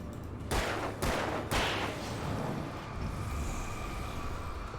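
Flashbangs bursting in the Alan Wake video game: three sharp, loud blasts about half a second apart, each trailing off into a ringing wash of noise, with no talking.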